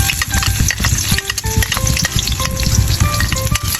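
Garlic frying in hot cooking oil in a pan for pork afritada, a loud steady sizzle with occasional stirring scrapes and clinks throughout.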